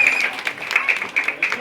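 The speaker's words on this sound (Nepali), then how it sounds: "एकपल्ट सबैले जोरदार ताली" Guests at a 50th wedding anniversary gathering burst into hearty applause, a brisk, lively clatter of many hands close by, with bright ringing accents and a few louder bursts throughout.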